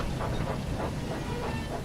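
A train runs along the rails in the Thomas & Friends Wonders of Sodor video game, making a steady, close rumble with hiss and faint rhythmic clacking throughout, with no talking.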